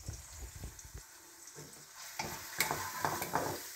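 Small cubes of chicken fry in a pan as pasta is made at home. Steady close sizzling is broken by scraping stir strokes, and the sizzle grows brighter and louder toward the end, with no talking.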